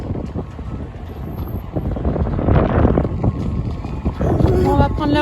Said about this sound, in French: il y a plein de vent, il fait bien frais